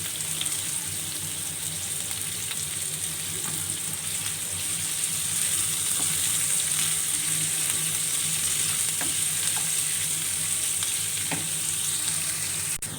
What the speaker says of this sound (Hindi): मैं इसमें प्याज डाल रही हूँ। प्याज़ों को मैं सही से ब्राउन करूँगी।